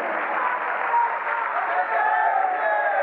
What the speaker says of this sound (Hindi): ताली बजाते बजाते आपके दोनों हथेली अभ्यस्त हो गए